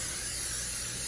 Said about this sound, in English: You're gonna spray your pan.